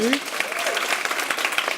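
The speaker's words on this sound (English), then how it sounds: "Round of applause for them." Audience applause at a live stand-up comedy event, a steady dense patter of many hands clapping throughout, with a faint voice gliding over the start.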